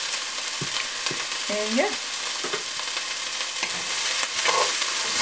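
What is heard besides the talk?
bell peppers cooking and being stirred in a pan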